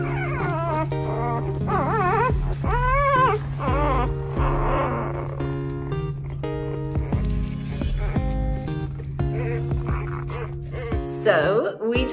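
Newborn puppies whimpering and squeaking in high, wavering cries, several overlapping close by, with a steady hum underneath.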